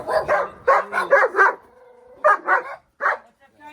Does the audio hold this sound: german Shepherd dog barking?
yes